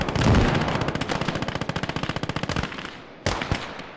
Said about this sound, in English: Artillery is picking off the Soviets in the center.